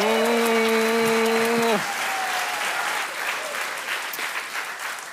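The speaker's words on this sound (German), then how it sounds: "Großen Applaus für Idil Beider und Shahak Shapira!" An audience at a comedy roast battle breaks into loud, sustained applause, with a sustained musical tone ringing over the clapping at first before it fades and the clapping continues alone.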